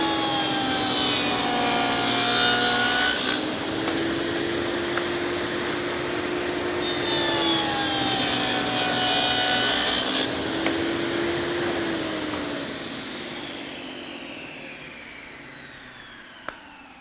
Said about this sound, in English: dado blade goes in, and we're going to cut the rabbets to receive those sides